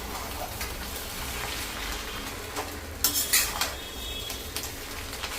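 Food frying in a heavy kadhai, a continuous dense sizzle with a brief burst of clattering metal and stirring scrapes near the middle.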